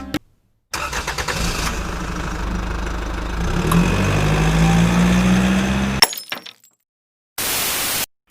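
A 2020 BMW F900R motorcycle engine starts with a sharp burst and settles into a loud, steady idle close by for several seconds, then cuts off abruptly into silence before a short flat noise burst.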